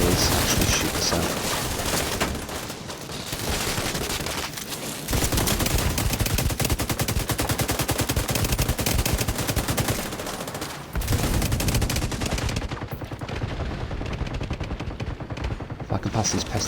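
Rapid automatic gunfire and bursts of shots from The Division 2 video game, loud and nearly continuous, with brief lulls and a faint voice mixed beneath the firing.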